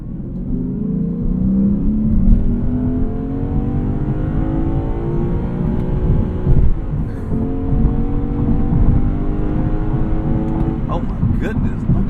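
A car's engine pulls hard, merging onto an expressway. It drones steadily and climbs in pitch, dips briefly at a gear change, then climbs again under a constant road rumble heard from inside the cabin.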